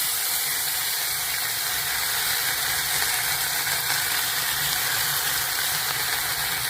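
Dal fries in a pan in a home kitchen, giving a steady, continuous hiss and sizzle at close range with no talk.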